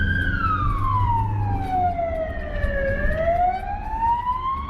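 A Spanish ambulance siren wails loud and steady, its tone sliding down then back up in a long continuous sweep over a low rumble of traffic.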